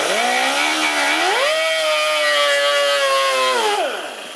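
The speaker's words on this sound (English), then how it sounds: "I'm just going to take a cutoff tool, and I'm going to start to trim" A cutoff tool trims a urethane plastic bumper cover, giving a loud, steady high-pitched whine that rises in pitch as it bites, holds for a few seconds, then spins down at the end.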